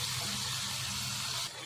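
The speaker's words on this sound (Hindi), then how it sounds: "और सारा पानी हम इसका डाल देते हैं।" Water pours steadily into a cooking pot for beef pulao, a soft continuous gushing that stops abruptly near the end, quiet and with no talk.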